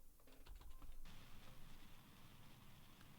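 Rapid typing on a computer keyboard with a sticking key, a burst of close, quick clicks at the start, then a faint, fuzzy hum.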